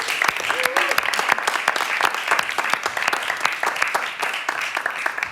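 Audience applause at a live night of storytelling, dance and song, honouring Auntie Jeanine Leane: dense, steady clapping from a crowd that holds at full strength throughout, with a brief voice or whistle cutting through early on.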